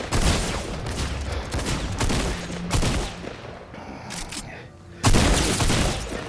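Gunfire from a purple shotgun and other weapons in Fortnite Team Rumble on PS5, a dense, loud barrage of blasts and shots that drops briefly before a final heavy boom near the end.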